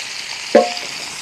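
Fish pieces frying in oil in a pan for a fish curry, cooked outdoors in a garden: a steady soft sizzle with one sharp clink or stir partway through.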